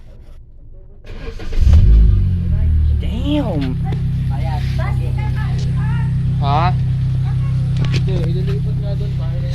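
A black 2011 Hyundai Accent engine cranks and catches with a loud surge, then settles into a steady idle that continues under excited talk.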